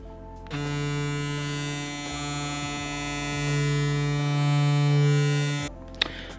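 A small JRL electric hair clipper hums steadily at close range with a bright buzzing whine, its pitch shifting slightly midway before it switches off.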